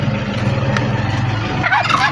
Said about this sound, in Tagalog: Ayan yung pabo.